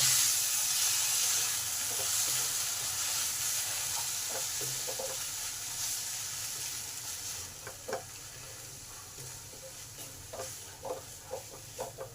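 Banana flower paste stir-fried with spices in a pan, a steady broadband sizzle with scraping stir strokes growing more distinct toward the end, close and moderately loud, no voices.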